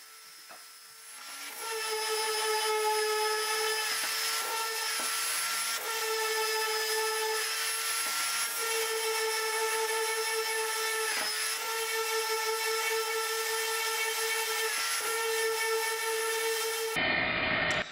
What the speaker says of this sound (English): I then decided to sand all the legs down while I had them here